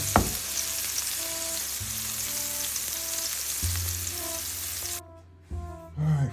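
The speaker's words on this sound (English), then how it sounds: "I'm gonna let the onions cook in here" Onions fry in a pan with a steady close sizzle, with faint tonal hum underneath, before the sound drops away briefly and returns near the end.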